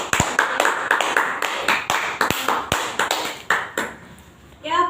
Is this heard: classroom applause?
yes